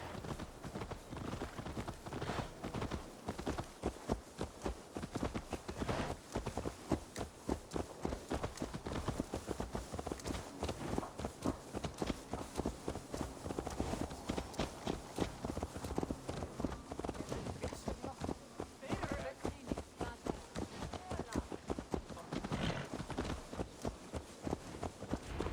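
Horse hooves clip-clop in a fast, steady rhythm throughout, close and prominent, as a horse trots along in the Assassin's Creed Valhalla video game.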